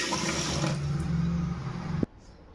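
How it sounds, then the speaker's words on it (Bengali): Tap water runs steadily and fairly loud while hands are washed in a kitchen, then the flow cuts off abruptly near the end. "আগে একটু হাতটা ধুয়ে নিই"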